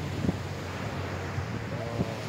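Rough sea waves wash onto a beach at Misor, a steady roar of surf buried under heavy wind buffeting the microphone, with faint voices in the background.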